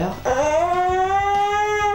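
A pet dog whimpers and then breaks into a long, rising howl that holds steady near the microphone, loud and alone with no talking over it.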